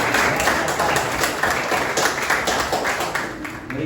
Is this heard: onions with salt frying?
no